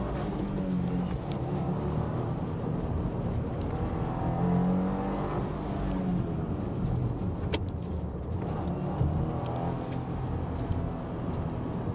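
A 2022 Subaru WRX Sport with a manual gearbox is driven on a winding back road and heard from inside. The engine hums steadily, rising and falling with throttle and shifts over road rumble, at moderate loudness and without speech.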